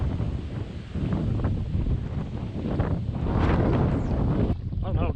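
Strong wind blasts across the water and buffets the microphone of a small kayak on a lake, a continuous loud roar with a few light water splashes.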